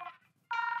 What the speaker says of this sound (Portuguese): É o meu telefone.